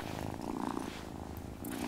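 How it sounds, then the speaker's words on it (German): A cat purrs in the video game Wylde Flowers, a soft steady rumbling purr heard close up with light background game sounds, no talk over it. "Oh, such a good cat."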